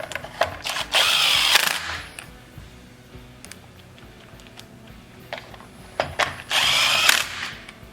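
A power drill drives screws back into the recoil starter housing of a Stihl FS 70 RC string trimmer: two loud whirring bursts of about a second each, separated by quieter handling clicks, close up and without speech.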